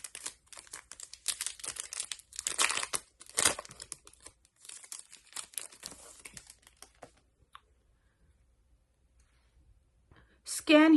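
Close crinkling and tearing of the foil wrapper on a Magic the Gathering collector booster sample pack, busy rustling for several seconds before falling nearly silent, with a brief crinkle again at the end.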